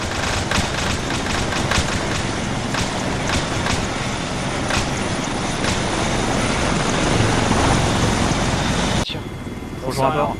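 A helicopter in the Arma 3 video game, its rotor chop pulsing steadily and loud up close under radio-style voices, then cutting abruptly near the end into quieter talk.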